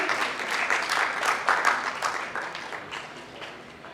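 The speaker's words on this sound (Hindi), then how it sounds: "तो एक बार जोरदार तालियों के साथ हमारे पुरुषोत्तम भैया का स्वागत कीजिए" A live audience at a drama performance breaks into dense, steady applause of many hands, fairly close and loud, then slowly tapers off.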